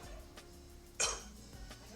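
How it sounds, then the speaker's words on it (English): A single sharp cough bursts out near the middle, loud and close, against a quiet background with no talking. "You should be coughing."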